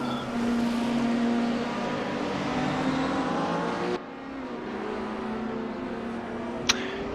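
An Audi race car lapping Hockenheim, heard onboard with a loud, steady engine drone that shifts pitch midway, followed by one sharp click near the end.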